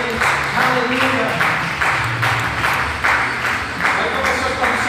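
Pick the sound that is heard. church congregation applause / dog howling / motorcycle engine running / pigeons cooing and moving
church congregation applause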